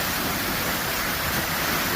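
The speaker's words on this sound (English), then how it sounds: "As you can see, the water coming right down in the sound." A waterfall pours down at Milford Sound, New Zealand, heard as a dense, steady roar of rushing water, loud and unbroken throughout.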